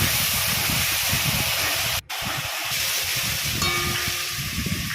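A spice paste of ground cumin, turmeric, salt and slit green chillies fries in hot oil with nigella seeds, giving a loud, close, dense hiss with low bubbling crackle and one brief dropout midway.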